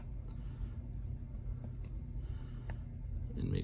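A continuity tester gives a single short, faint electronic beep as its probe touches connector pins during BlueSCSI assembly, heard over a low background hum.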